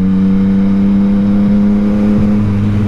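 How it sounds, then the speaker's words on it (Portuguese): A motorcycle engine with an open exhaust revs, giving a loud, steady, droning tone with a slight pitch change toward the end. The sound is close and continuous, and no one talks. "tem hora que eu gosto dessa moto com escape assim, mais aberto"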